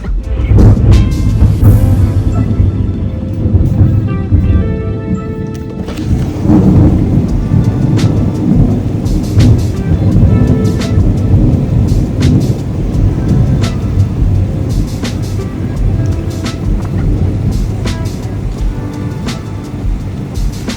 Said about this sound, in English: A little lightning, thunder right now.